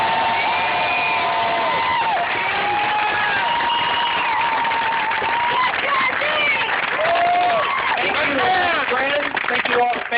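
Crowd of families applauding and cheering new airmen at a military graduation parade, steady clapping with whoops and shouts throughout, loud and sustained, with voices calling out over the applause.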